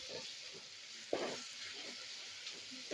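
Ingredients for soybean pulao sizzle quietly and steadily as they are sautéed in a pan, with a brief stir or scrape near the middle. No one talks.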